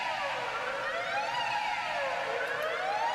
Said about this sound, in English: this is just like a siren